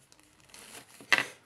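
A brief, bright crinkle of the thin plastic bag packaging wired earphones, close up, with a soft rustle beforehand and a sharper crackle near the end.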